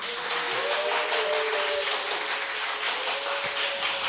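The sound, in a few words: audience applause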